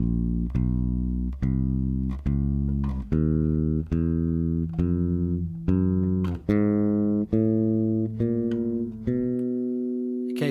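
An electric guitar plays a spider-fingers practice riff: about a dozen separate, evenly spaced picked notes that step through different pitches. Each note rings and decays before the next, close and clear with no talking.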